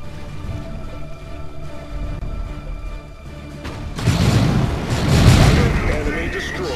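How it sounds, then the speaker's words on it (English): Hive node bombardment in the video game Dawn of War 2 comes as heavy explosions that crash in partway through and keep rumbling loudly, following a calmer stretch with voices. "Bombardment from a Hive node."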